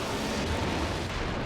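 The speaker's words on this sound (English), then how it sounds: "and explodes, but the explosion is not as bad as it could have been" A train explodes in The Bouncer video game, heard as a short, dense burst of rumbling, roaring noise that holds steady at a moderate level throughout.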